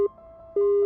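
A cartoon phone call gives a steady electronic ringing tone, a short beep followed by a longer sustained tone after a brief pause, clean and loud with nothing else around it.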